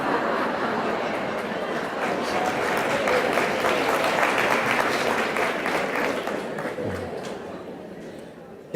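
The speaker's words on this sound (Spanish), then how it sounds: "esto más que aplaudir podéis hacerlo" Broad applause from a lecture audience that swells to a peak midway and then slowly fades, with some chatter and laughter mixed in.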